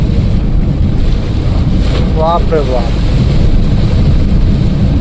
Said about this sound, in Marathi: एकदम खतरनाक पाणी चालू झालेलं आहे.